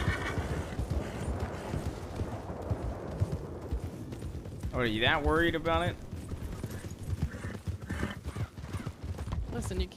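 A horse in the Red Dead roleplay game clops along under steady conversation, with a clear whinny rising about halfway through before the hoofbeats continue beneath the talking.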